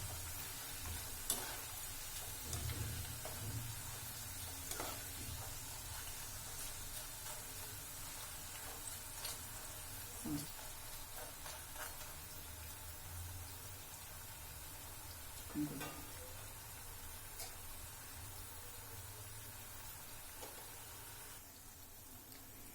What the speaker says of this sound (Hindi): अब हम इसके अंदर ये रोटी के पीस डाल देंगे और गैस की फ्लेम को लो रखेंगे। और इनको धीमी धीमी आंच के ऊपर तल लेंगे।